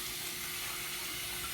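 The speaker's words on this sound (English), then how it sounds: "Let me wash my hands real quick." Water runs steadily from a kitchen tap while hands are washed during lobster prep, a continuous close hiss with no break and no talking.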